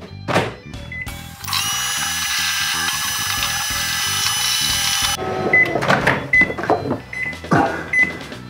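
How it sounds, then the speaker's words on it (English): A microwave oven hums steadily for several seconds on high power with a constant whir, surrounded by clicks and clunks of handling before and after. "just over to the microwave with this, and in there for just 30 seconds on the high"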